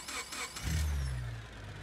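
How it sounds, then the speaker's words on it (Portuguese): A Porsche GT3 engine in the BeamNG.Drive driving game cranks with a quick whir, then catches and settles into a deep, loud idle rumble. "vamos ver o barulho do motor"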